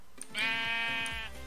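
A single sheep bleat from Minecraft with the FTB Continuum modpack: a short, clear, wavering baa lasting about a second, close and loud against a quiet background.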